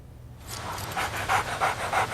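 A dog pants in quick, rhythmic breaths that start after a brief quiet moment and stay fairly close and steady over a low background rumble.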